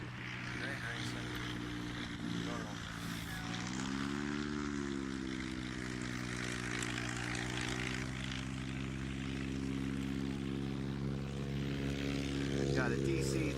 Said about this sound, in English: got a DC-3 turbine conversion, just taxied out of the Basler factory ramp